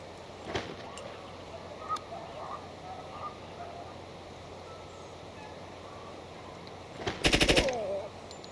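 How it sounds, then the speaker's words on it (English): Machine gun firing in the tactical shooter Door Kickers 2, a single short rapid burst of shots near the end, preceded by a few scattered isolated shots against quiet game ambience. "Machine gun's earning his pay, that's for sure."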